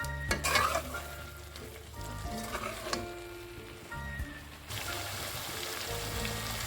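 Chicken curry masala with red chilli and garam masala is stirred in a pan, a sizzling, frying texture under repeated spoon scrapes, louder at the start and steadier afterward.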